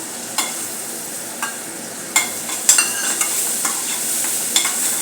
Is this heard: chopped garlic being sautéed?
yes